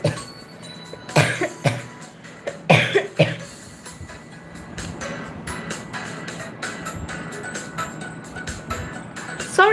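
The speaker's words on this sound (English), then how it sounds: "Sorry about the coughing, by the way." Several sharp coughs and throat clearings burst out in the first few seconds, followed by quieter scattered coughs over a low steady background hum indoors.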